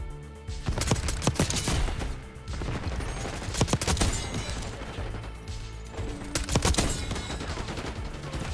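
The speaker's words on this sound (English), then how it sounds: "Nine shots, but reload." Repeated gunshots and quick bursts of fire in Black Ops 6, loud sharp cracks in clusters over a busy, clattering game background.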